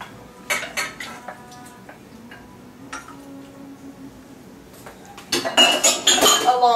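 Ingredients tipped into a medium saucepan while preparing vanilla panna cotta, with scattered clinks and clatters of metal cookware and utensils, growing into a louder burst of rattling near the end.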